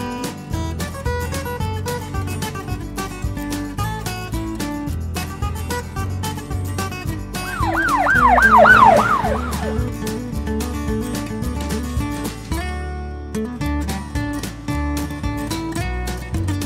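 A toy police car's siren wails in a brief warbling burst of rising and falling tones for about two seconds, sounding over continuous upbeat background music.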